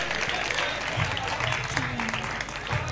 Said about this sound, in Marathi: मित्रांनो, एकदा जोरदार टाळ्या मारा पाहिजे